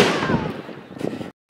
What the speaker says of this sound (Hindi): तो अब चलाते हैं चिदंबरम के बुलेट बॉम्ब को, इसका साउंड देखिएगा।